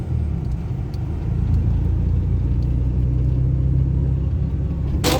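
A car passes close by with a loud, steady engine rumble and road roar that swells and holds for several seconds, ending in a brief sharp rattle.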